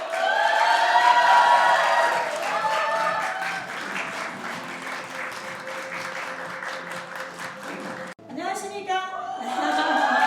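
An indoor concert audience applauds to welcome a singer onto the stage, a full burst of clapping that gradually fades before a voice speaks over a short sound system tone.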